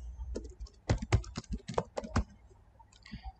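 Typing on a computer keyboard while editing an HTML file in Visual Studio Code: a close, quick run of uneven key taps and clacks that thins out to a few last strokes, with no talking.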